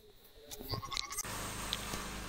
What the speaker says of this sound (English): Got the goats.